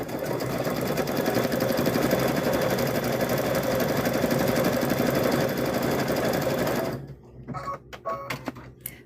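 A sewing machine runs in a steady, dense, rapid stitching hum while piecing a patchwork gnome quilt. It stops near the end, leaving a few short clicks and handling noises.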